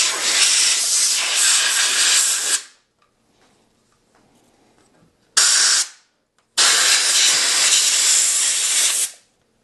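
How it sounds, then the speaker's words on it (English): Compressed air blasts around the spark plug well of a Suzuki GSX-S750 motorcycle: three loud, broad hissing bursts, one long, one brief, one long, separated by near silence. "I'm gonna use an air compressor to gently blow in around the spark plug"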